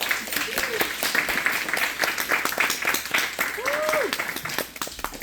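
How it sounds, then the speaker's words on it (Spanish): Audience applause welcoming a speaker to the stage, a fairly loud continuous patter of clapping with a few crisp individual claps and some voices mixed in. "Entonces le damos un aplauso a mi amiguita."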